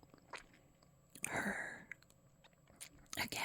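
Close, quiet ASMR mouth sounds of someone eating a mint: soft wet chewing and a brief crunchy burst in the middle, with scattered faint clicks and smacks.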